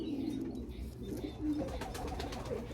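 Pigeons in a racing loft cooing softly and repeatedly at close range, low throaty coos with a few faint chirps mixed in, no talk.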